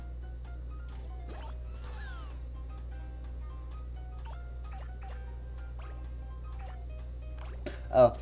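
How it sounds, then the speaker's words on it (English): A cat meows in the Katamari Damacy video game, a few short cries over a steady low hum with faint game sounds, then a brief louder burst near the end. "Oh, that's a cat."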